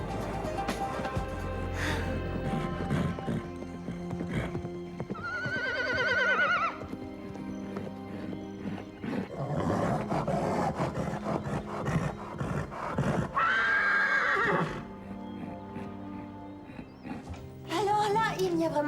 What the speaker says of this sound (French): on voit bien que ce cheval est cinglé